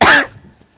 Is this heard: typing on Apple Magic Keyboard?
no